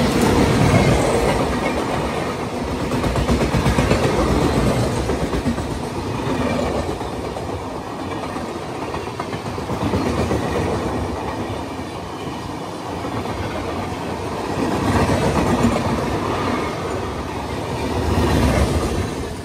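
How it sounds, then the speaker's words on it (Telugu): A Visakhapatnam–Lingampalli Janmabhoomi Express passes close by on an Indian railway line, a loud sustained rumble of wagons with rhythmic clickety-clack and some wheel squeal, no voices. "విశాఖపట్నం లింగంపల్లి జన్మభూమి ఎక్స్ప్రెస్ అది"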